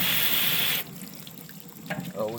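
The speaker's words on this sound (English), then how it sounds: "Water hose behind you." Cold water gushes loudly from a hose over a freshly butchered Cornish Cross chicken for under a second, then cuts off, leaving quiet handling noises and a brief voice.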